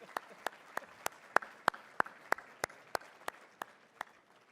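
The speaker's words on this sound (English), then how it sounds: "let's also take a moment to just give each other a round of applause for showing up today" Sparse, slow, individual hand claps ring out in a steady rhythm at a breakfast event, about a dozen distinct claps spaced evenly, fairly faint and distant, rather than a full burst of applause.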